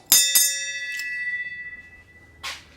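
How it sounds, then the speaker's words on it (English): A bell is struck twice in quick succession, ringing out clearly and decaying slowly, followed by one softer tap near the end. "I'm gonna ring the bell."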